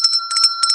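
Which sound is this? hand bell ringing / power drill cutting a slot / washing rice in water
hand bell ringing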